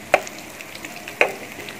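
Mutton chops fry in oil with a soft, low sizzle, broken by two sharp clinks of a utensil about a second apart.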